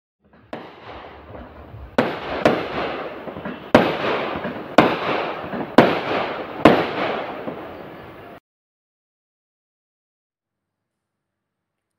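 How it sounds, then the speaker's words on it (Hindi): Firecrackers burst at a Kerala temple festival in a loud, sharp series of about six bangs, each trailing into crackling, then silence. "पटाखा भी फोड़ा जाता है।"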